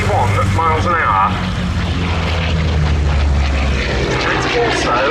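Grumman Bearcat fighter with a 2,100-horsepower radial engine flying at a Duxford air show, a loud, steady propeller-engine drone that shifts in pitch as it passes, with a commentator talking over it throughout.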